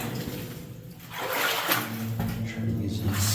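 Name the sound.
water in an abandoned mine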